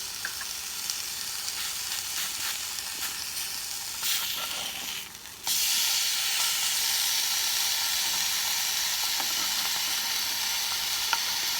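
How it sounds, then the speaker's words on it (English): Eggplant and portobello pieces sizzling in a pan with water added instead of oil, a steady loud hiss that briefly dips, then surges stronger and steamier, with occasional stirring clicks. "a bit of a sizzle"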